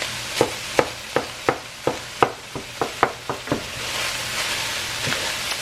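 Beef browning in a pan, a steady sizzle beneath a regular series of about a dozen sharp utensil taps and scrapes against the pan, then continued frying without the taps.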